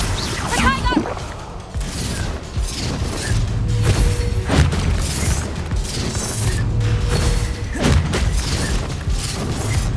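The Confringo spell blasts in a Hogwarts Legacy battle with booming impacts and crashing debris amid continuous combat noise, while voices shout over the fight.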